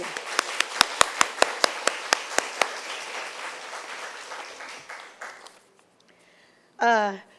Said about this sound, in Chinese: 我们再一次给他们掌声鼓励